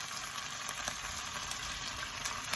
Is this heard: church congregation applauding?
no